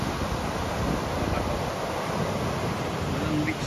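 Heavy sea waves break against a rocky, sandless shore at Torrevieja, Spain, giving a steady, dense roar of churning surf mixed with wind buffeting the microphone, with no distinct separate crashes.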